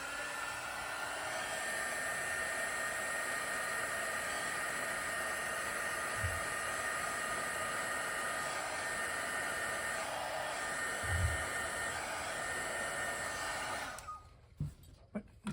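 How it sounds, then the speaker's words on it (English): A hot air gun blows continuously while shrinking heat-shrink tubing during repair of a 1950 RCA Victor 45-J record player, a loud steady roaring hiss that cuts off near the end, followed by a few small handling knocks. "what I have to do is just hit this with my hot air gun, which makes a lot of noise and takes a bit of time"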